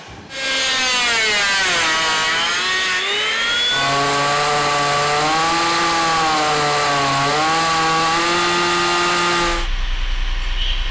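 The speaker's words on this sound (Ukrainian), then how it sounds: "Бензопила, электрорубанок и руки человека делают из массива дерева точеную деталь корабля." A chainsaw screams steadily through a solid wooden beam for a ship, its pitch rising and dipping as the cut loads and frees, loud and close, then stops abruptly.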